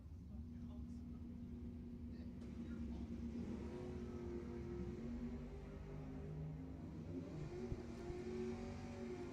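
Two Camaro drag cars, one all-yellow and one flamed, race at Lebanon Valley Dragway during ET finals, their engines droning and rising at a distance under an announcer's commentary.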